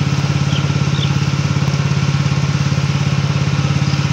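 A Robin small engine runs steadily at idle in the open, a loud, even low throbbing chug that continues unbroken, left to burn off the last of its gas.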